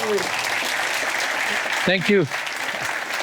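A conference audience applauds continuously throughout, a dense wash of clapping from a crowd, while someone briefly speaks over it near the end.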